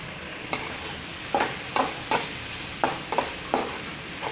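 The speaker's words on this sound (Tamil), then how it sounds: "நல்லா கலந்துக்கலாம்." Shredded cabbage fries gently in a pan while a spoon stirs it, producing a soft continuous sizzle broken by about eight distinct scraping knocks against the metal at irregular intervals.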